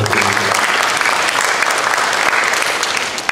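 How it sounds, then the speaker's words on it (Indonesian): A church congregation claps steadily and loudly throughout, a dense, continuous wash of hands with a brief voice fading out at the very start. "Kasih tepuk tangan dulu."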